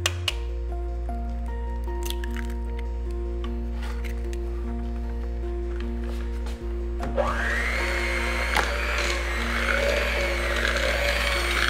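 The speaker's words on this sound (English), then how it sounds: "Now we're going to add one egg and blend" An electric hand mixer blends an egg into chocolate chip cookie dough, giving a steady motorized whir with a low hum that grows rougher and busier partway through as the beaters churn the dough.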